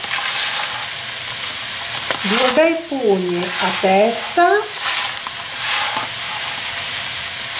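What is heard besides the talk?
arborio rice toasting in a pan with Belgian endive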